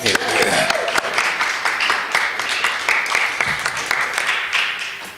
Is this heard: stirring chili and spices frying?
no